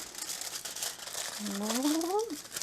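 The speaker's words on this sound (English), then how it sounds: "now I am going to wrap it in foil" Aluminum foil being wrapped around a potato crinkles and rustles steadily up close, with a brief rising whine partway through.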